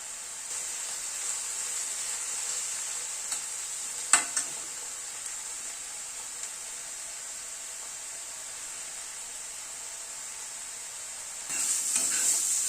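Steady frying hiss as spinach fries in a pan with turmeric and a slit green chilli, continuous and moderately loud, with a couple of brief utensil clinks partway through and a stir near the end.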